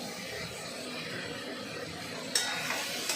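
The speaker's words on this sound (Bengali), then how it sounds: "সব কিছু দিয়ে দিয়েছি, দিয়ে করে কষে নিচ্ছি এখনও কষা চলছে।" Pointed gourd curry with coconut being stir-fried in a pan, a steady close sizzle with soft scraping and a few sharper utensil clinks near the end.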